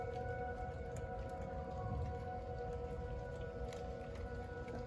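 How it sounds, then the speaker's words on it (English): Several tornado warning civil defense sirens wail steadily in the distance, overlapping in a faint, continuous drone with light rain pattering, and no talk. "hear many sirens because there might be a tornado close to the city."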